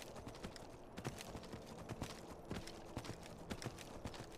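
Horse hooves clip-clop in steady, repeated beats as the rider heads downhill on the road to Helgen in Skyrim, the strikes clear over a busy game ambience with no talk.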